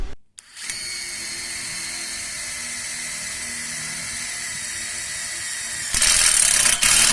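An OSUKA OCID821U-D1 impact driver drives a screw into thick steel, a steady loud mechanical whir running continuously for several seconds and growing harsher and louder near the end, with no talk.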